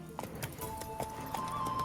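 Horse hooves clip-clopping in The Witcher 3, a few distinct thuds over a steady in-game ambience, with a brief whinny-like tone and some faint background voice.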